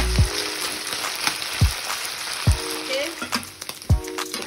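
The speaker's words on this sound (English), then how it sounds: "you can see our beef is getting brown little by little. It's getting fried." Beef fries in a pan with a continuous sizzle, broken by several sharp scraping knocks as the meat is stirred, loud and close with no talking.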